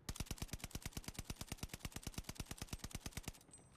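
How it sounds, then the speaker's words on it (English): Rapid automatic bursts from an STG44 assault rifle in Call of Duty: Vanguard, about twenty-five evenly spaced, loud, sharp shots in one continuous stream, then an abrupt stop with a faint ringing tail. "Now let's just ADS and shoot and let's see."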